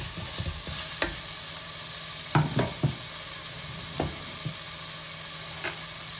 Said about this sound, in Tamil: இப்போ தக்காளி வதங்கிட்டு இருக்கு